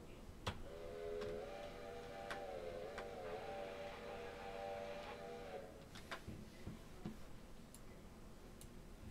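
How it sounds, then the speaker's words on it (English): A steam train whistle blows in the railroad video game Railroader, one sustained multi-tone chord lasting several seconds over rhythmic ticking and mechanical clatter, which then continues alone. "I like to give a whistle blow when I'm coming into town."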